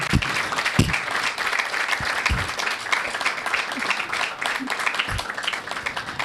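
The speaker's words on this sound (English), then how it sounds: "Big clap for Anjani KUMAR." Studio audience applauding the Indian ambassador to Mali as a guest on a television show: dense, steady clapping throughout, with a few louder close claps standing out and a voice faintly underneath.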